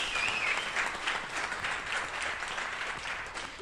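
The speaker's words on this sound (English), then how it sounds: "we need a bigger round of applause for that" An audience at a club meeting gives the treasurer a long round of applause, a dense, even patter of many hands clapping throughout, with a faint whoop near the start.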